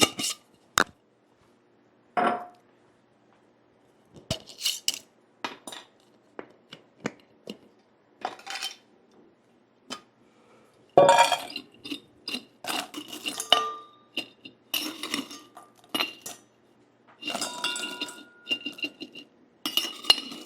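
Metal bowls clink and clatter close by while food is served. Sparse sharp knocks with quiet gaps open the passage, then a denser run of jangling metallic hits follows.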